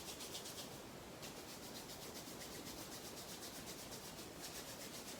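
Hands rub briskly together during a yoga session, a continuous soft, close swishing friction with a faint rhythmic pulse, heard alone.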